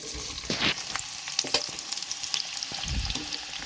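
Onions frying in hot oil for a Kashmiri dish, a steady close sizzle with a few scraping stirs and spatters and no talking.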